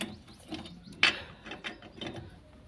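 A wrench works the bolts of an alloy car wheel during a spare wheel change, giving a few quiet metallic ratcheting clicks and one sharper clank close by.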